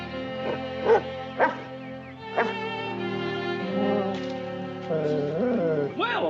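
A dog gives several separate close barks and yips over a steady background of music from a TV sitcom scene, with some whimpering tones toward the end.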